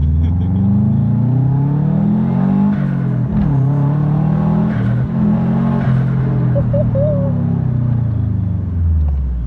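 A four-wheel drive JDM car launches hard, its engine droning loud and steady with rising and falling revs as it pulls, heard from inside under a constant road rumble.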